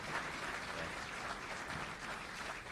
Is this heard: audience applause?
yes